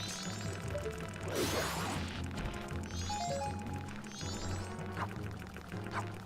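Water sloshes and pours in a burst as Link scoops with a bottle in Majora's Mask, set among game clicks, mechanical ratcheting tones and short beeps.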